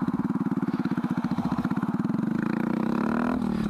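A Honda Grom motorcycle engine runs close by, a steady pulsing putter that climbs in pitch as the rider revs it toward the end.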